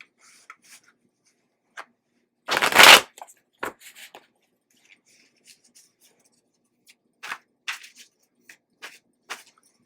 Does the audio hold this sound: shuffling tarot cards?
yes